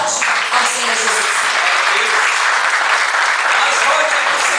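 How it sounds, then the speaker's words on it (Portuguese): A church congregation claps loudly and steadily in a dense, continuous wash of applause from start to end, with scattered voices mixed into the crowd. "Então vamos recebê-lo aplaudindo bem forte ao Senhor Jesus."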